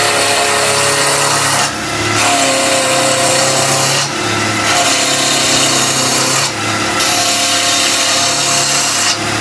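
A bowl gouge making a roughing cut on wood turning on a lathe, giving a loud, steady rasping shred that stops briefly three times as the tool lifts off, then resumes, close and with no talking.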